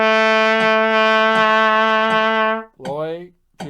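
A trumpet sustains a long low B half-note-style tone, steady and bright with a strong harmonic stack, then cuts off into a brief bending sound and a short gap before another attack.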